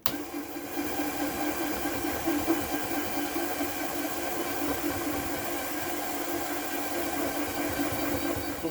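A vintage German swirl marble tumbling and polishing in 800 grit gives a steady, continuous rumbling whir with hiss, close and even throughout.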